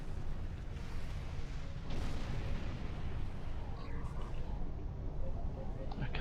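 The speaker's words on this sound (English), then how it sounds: "defense cannons are driving me mad." Defense cannons fire in the space game Star Trek Online, heavy booming blasts with a strong burst around the middle and further shots later, all set against a constant rumbling background.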